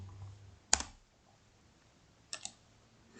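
A single sharp keypress on a computer keyboard, likely the Enter key, crisp and close in a quiet room, followed a moment later by a softer double click.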